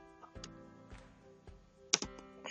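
Someone types code on a computer keyboard, with quiet, scattered key clicks at an irregular pace and a sharper double tap near the end, close and soft, with no talk.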